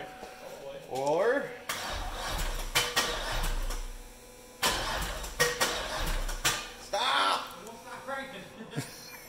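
A Silverado truck, formerly a V6, cranks repeatedly after sitting unstarted for months, with bursts of starter churning interrupted by pauses while people talk nearby.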